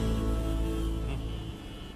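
A taxi engine runs in a steady low hum with tonal harmonics while the car drives, loud and close, easing slightly toward the end.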